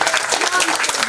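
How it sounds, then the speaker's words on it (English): An audience at an academic conference valedictory session claps for the event's anchors, a dense, steady wash of applause filling the room, with voices mixed in. "Clap for them."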